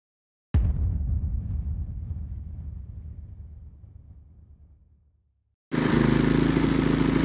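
A Pulsar 3200W propane/gas dual-fuel inverter generator with a slight misfire and rattling loose rear wheels. A loud burst of engine noise fades away over several seconds, then after a short gap a loud, steady, noisy running sound kicks in.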